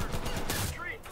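Rapid gunfire from a premium machine gun in the multiplayer shooter Enlisted, a dense burst of shots at close range, with a voice talking over it.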